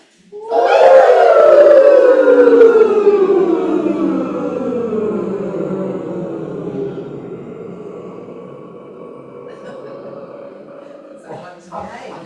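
A voice imitates a blaring alarm with a long, loud, wavering descending wail that slowly fades over about ten seconds.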